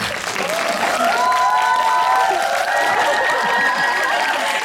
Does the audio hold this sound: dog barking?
no